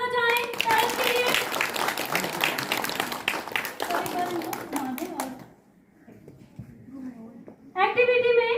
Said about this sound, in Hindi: जोरदार तालियां बजाएं पेरेंट्स के लिए।